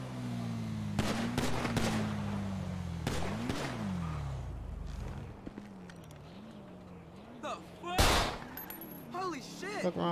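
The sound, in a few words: gunfire in a video game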